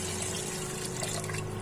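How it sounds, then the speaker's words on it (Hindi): Water poured into yogurt in a cooking pot while making kadhi, a steady close rushing and splashing stream with no pause and no talking. "अब हम पानी डालेंगे"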